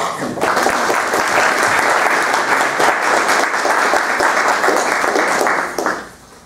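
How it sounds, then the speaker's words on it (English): An audience at a Supreme Court nominees debate gives a speaker a full round of applause. The clapping is loud and dense, holds steady for about six seconds, then drops off abruptly. "please give a round of applause for our speaker"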